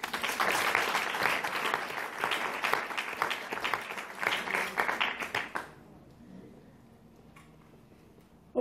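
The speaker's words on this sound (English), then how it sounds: "so applause to you again." A conference audience applauds volunteers with a steady, moderately distant round of clapping lasting about six seconds, then stops abruptly, leaving near-silence with a faint noise at the end.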